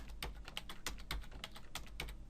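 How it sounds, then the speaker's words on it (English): Typing on a computer keyboard, a quick irregular run of close, crisp key clicks and taps with no talk. "you can just do it on your keyboard"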